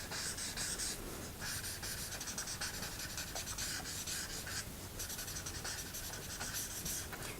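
A Promarker alcohol marker rubbing across paper as flower petals are coloured in, giving close, quiet scratchy strokes in a quick repeating rhythm with brief pauses.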